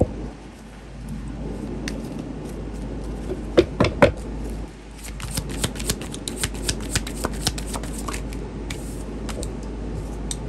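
Tarot cards shuffled for a reading, a run of soft riffling and sharp flicks and snaps, close and fairly quiet with some louder cracks partway through and no talking.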